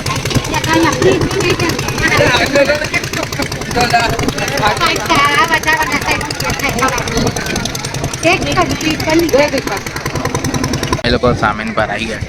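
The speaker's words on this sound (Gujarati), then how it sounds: "ચાલો આપણી બોટ ચાલુ થઈ ગઈ." Boat engine on the Narmada river runs as a loud, steady rattling chug right up close, with a person talking over the continuous engine noise.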